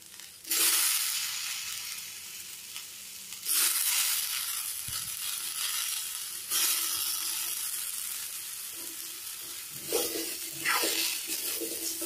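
Brinjal pieces drop into a hot pan of oil and tomato for a gravy, giving a steady broadband sizzle with several louder bursts as the vegetables are added and stirred, with no talking.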